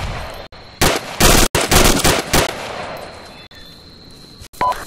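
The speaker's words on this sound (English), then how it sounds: "Taking fire from the south." Bursts of airsoft gunfire crackle during an outdoor skirmish game, loud rapid strings of shots in several clusters with brief gaps between them, no talk.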